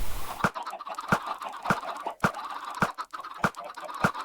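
Chickens in a pen in Minecraft give repeated short clucks at a fairly steady rhythm, moderately loud and close, with no talking over them.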